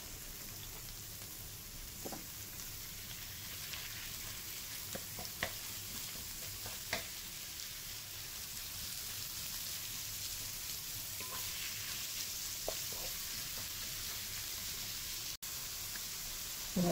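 Beef frying in a pan for a home-cooked meal, with a steady low sizzle running throughout, occasional scrapes and clinks as it is stirred, and no talking.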